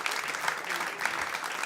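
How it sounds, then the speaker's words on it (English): A live comedy audience gives a round of applause as a comedian is called onstage, a steady, dense patter of claps at even volume with a slight murmur beneath. "Can you guys give a big round of applause to Mark Watson, please?"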